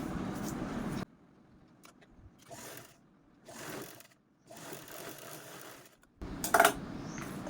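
A sewing machine stitches a zipper onto a fabric mobile pouch in a few separate mechanical bursts between pauses, with short whirring runs and a louder burst near the end.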